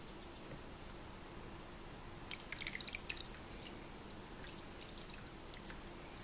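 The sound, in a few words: lye mixture poured into oils for castile soap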